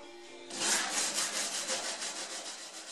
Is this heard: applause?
no